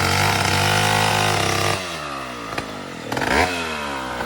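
Motorcycle engine running close by with a steady harmonic drone that drops in pitch partway through, followed by short revs and rattling bursts; no speech.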